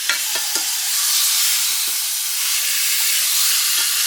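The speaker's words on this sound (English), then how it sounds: "Got my little smash burger started over here." A smash burger sizzles in a small frying pan, a steady loud hiss of frying fat with occasional soft scrapes and taps of a spoon, no voices.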